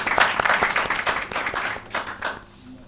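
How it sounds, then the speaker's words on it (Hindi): Audience clapping at a Christmas special show in Manchester, a lively burst of hand claps that thins out and fades toward the end. "इनके लिए भी बहुत सारी तालियां।"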